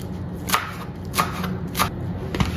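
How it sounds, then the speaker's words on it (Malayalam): Coriander and mint leaves chopped finely with a knife on a board, four crisp, evenly spaced cuts ringing out close and clear over a quiet background. "അതും നന്നായിട്ട് ചെറുതാക്കിയിട്ട് തന്നെ നമുക്ക് അരിഞ്ഞിട്ട് കൊടുക്കാം"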